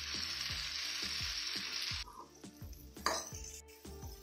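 A ground onion and coconut paste cooks with drumsticks in a pan, sizzling steadily while a spoon scrapes and stirs in a regular rhythm. The frying hiss drops partway through, leaving the repeated stirring strokes clearer.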